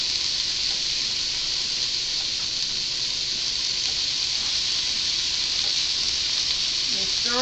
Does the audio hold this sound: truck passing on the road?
no